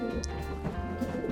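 Racing pigeon in a breeding loft giving a brief, soft, throaty coo at close range, low and rolling, heard on its own with faint room noise behind.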